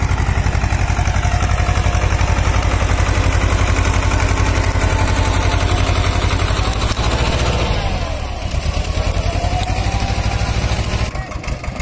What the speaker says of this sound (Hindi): Sonalika NT-30 high first gear